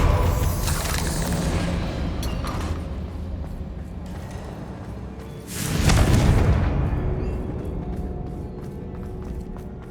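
A Confringo blasting spell in Hogwarts Legacy, a single heavy booming burst near the middle over ongoing game ambience and scattered clicks.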